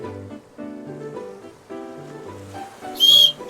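A broken whistle in the video game Anime Fart Simulator gives a short, shrill high-pitched burst near the end, following a stretch of soft melodic game music with low tones.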